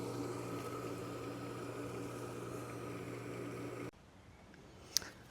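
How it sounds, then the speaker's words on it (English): An above-ground pool filter pump motor runs on rinse with a faint, steady hum and drone. It stops abruptly near the end, leaving quiet with a small click. "I'm going to turn the motor back on and let that run for maybe about 2 to 3 more minutes"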